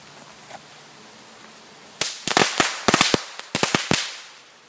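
Lady Cracker firecrackers go off in a rapid, irregular string of sharp, loud pops after a quiet stretch, the bangs clustered close together and ringing briefly outdoors.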